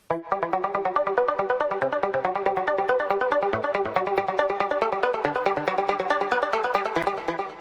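Synth arpeggio from the bridge of a track, run through a quick delay so the pattern feels faster: a rapid, even stream of bright pulsing notes, loud and close throughout, with no voices.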